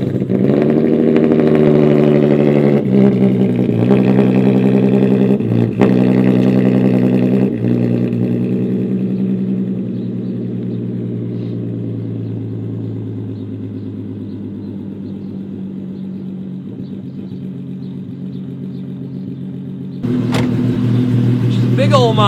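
A sports car engine hums loudly and steadily from inside the cabin while driving, rising in a few revs before easing into a lower cruise, then surging again near the end.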